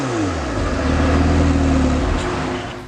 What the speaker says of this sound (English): this car has been selected with the titanium performance exhaust, and I gotta admit that twin turbo V8 sounds pretty fantastic